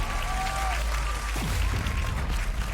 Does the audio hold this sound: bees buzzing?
no